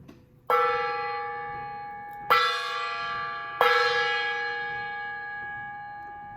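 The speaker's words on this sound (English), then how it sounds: "I haven't even used my gong in a while." A gong is struck three times at spaced intervals, each hit ringing with a long shimmering sustain that slowly decays and overlaps the next, fairly close with no talking.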